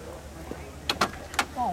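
Heavy door of a 1939 Cadillac Series 61 convertible coupe opening, heard as a few sharp latch clicks and thunks close by, with quiet talk at the end.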